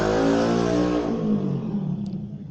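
A motorbike engine revs loudly and sweeps past close by, its pitch dropping as it moves away and fades within a couple of seconds.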